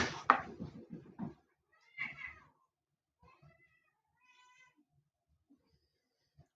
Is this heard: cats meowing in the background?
yes